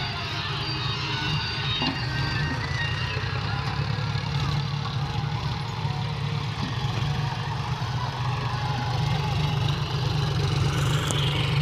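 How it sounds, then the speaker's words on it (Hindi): Several tractors levelling soil in a village field run together as a steady, continuous low engine rumble, moderately loud and unbroken throughout, with no talking. "एक साथ इतने देखो ट्रैक्टर चल रहे हैं"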